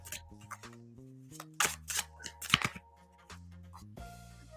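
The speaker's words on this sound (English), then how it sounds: "I'm gonna do a deep shuffle after this one." Tarot cards are shuffled in a few short, papery rustling bursts, fairly quiet, over soft tonal background music.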